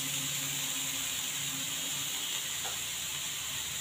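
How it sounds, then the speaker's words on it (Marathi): Curry leaves drop into hot oil in a frying pan with softening onion for a tomato bhaji, giving a steady, fairly quiet sizzling hiss that runs unbroken throughout with no voices. "त्याच्यामध्ये मी कढीपत्त्याची पानं घालत आहे थोडीशी।"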